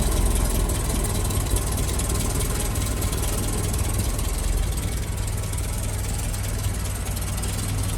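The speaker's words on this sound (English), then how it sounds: "There's a little 2A engine, actually running really nice and smoothly." A Land Rover Series 2A 88-inch petrol engine idles steadily and smoothly, a continuous low rumble close by, with no talking over it.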